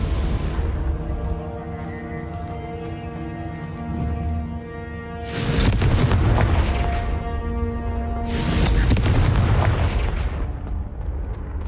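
Explosive booms from the Confringo blasting spell in Hogwarts Legacy, two heavy blasts several seconds apart with rumbling tails over a continuous game music bed.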